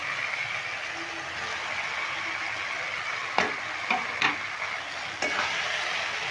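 Cauliflower pieces sautéing with spice paste in a pan give a steady, even sizzle, broken by a few sharp scrapes of a spoon stirring them through the masala.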